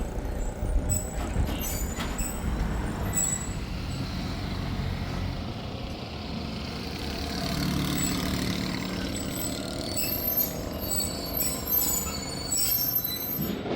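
The Zakariya Express passenger train rolls near Kotri junction with a loud continuous rumble of wheels on track, squealing metal and clattering carriages heard from inside, sustained throughout.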